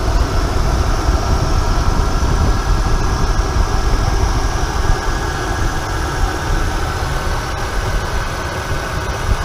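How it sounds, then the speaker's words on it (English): A truck engine idles close by, a loud, steady rumble that holds evenly throughout with no voices. "Okay, so you hear the motor running."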